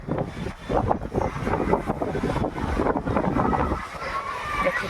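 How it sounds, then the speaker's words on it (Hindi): Strong wind gusts outdoors on a cool day, a steady broadband roar with buffeting on the microphone throughout, and a voice faintly audible within it. "देखो कितनी तेज हवा"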